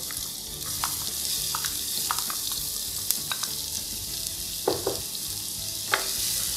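Oil sizzles and crackles steadily as onions fry in about three tablespoons of hot oil in a pot for chicken kabsa, with occasional stirring scrapes and spatters popping above the constant hiss.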